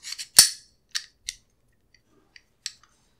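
Metal parts of a Beretta 92 pistol clicking and snapping together during reassembly, a few sharp close clicks spaced unevenly with quieter ticks between.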